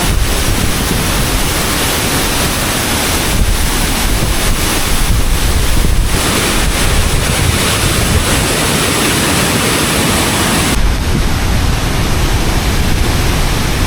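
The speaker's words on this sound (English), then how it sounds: "These are the waterfalls." A loud, unbroken roar of rushing water from a waterfall at Ban Gioc in northern Vietnam fills the air, with wind buffeting the microphone on top.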